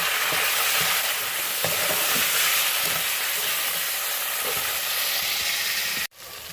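Onions and tomatoes fry in a pan with a loud, steady sizzle and hiss, while a spoon stirs and scrapes in irregular knocks, close throughout until an abrupt cut near the end.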